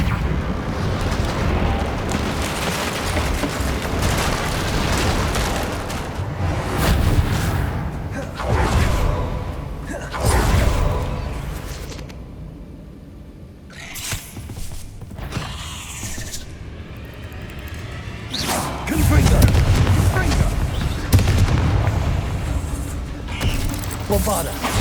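In Hogwarts Legacy, a Reparo spell mends a broken bridge with long stretches of grinding, creaking stone and rumbling masonry shifting back into place, loud and continuous, with a voice speaking briefly.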